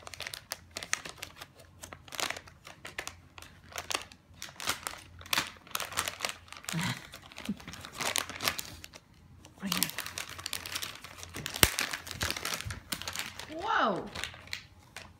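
Christmas wrapping paper crinkles and rips in short bursts as gifts are unwrapped, close and moderately loud, with people talking and a voice between the tears.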